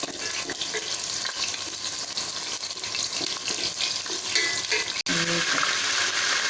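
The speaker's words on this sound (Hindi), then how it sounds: "अब इसको हम थोड़ा सा फ्राई कर लेते हैं।" Mutton pieces for palak gosht fry in a pan with a steady close sizzle, broken by a few stirring scrapes and a sharp clatter near the end.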